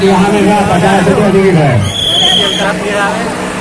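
Busy crowd hubbub in a public place, a steady wash of overlapping voices and chatter close by, with one nearer voice standing out and a brief high whistle-like tone partway through.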